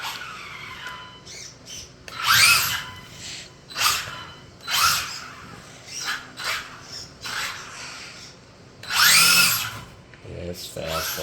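High-pitched whine of an electric motor on a 1972 Barracuda-bodied RC drag car with a wheelie bar, revving in short bursts and surges during an indoor test run, loud and close.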